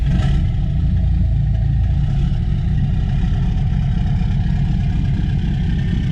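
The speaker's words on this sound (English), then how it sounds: "That's the starboard engine." Starboard engine of a NautiQuest 42 tournament sportfisher yacht on a cold start, a steady loud low diesel rumble and clatter that runs unbroken from the start, idling close by with no talk.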